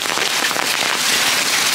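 Hail pelting a garden shade cloth over succulents, a dense, continuous crackling patter that stays loud and even throughout with no pauses and no voices.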